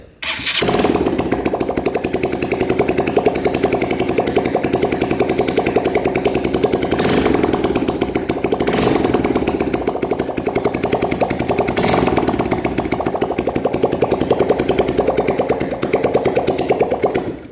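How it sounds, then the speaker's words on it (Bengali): A Honda Trigger motorcycle engine runs steadily just after starting, with the silencer not yet fitted: a loud, continuous rattling drone with a few brief louder surges and no talk. "বাইকটা আলহামদুলিল্লাহ স্টার্ট হয়ে গেছে এক টোকায়"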